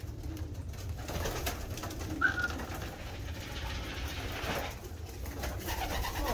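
Racing pigeons in a Hamburg breeding loft coo softly and intermittently as they wait for a peanut and cheese treat, faint calls over a steady low background hum.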